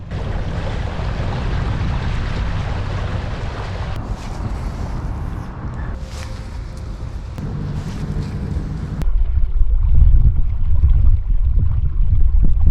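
A motorized fishing boat runs across the water, its engine drone and water rush carried under heavy wind buffeting on the microphone, growing louder near the end.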